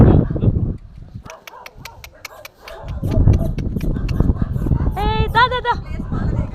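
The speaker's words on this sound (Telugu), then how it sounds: "ఈ డాగ్స్ వచ్చేసి వాటి బ్యాచ్ మొత్తం మమ్మల్ని చూసి అరుస్తున్నాయి" A pack of stray dogs barks and yips at people releasing treated puppies outdoors, with several loud barks, a high whimpering whine near the end, and people talking over the dogs.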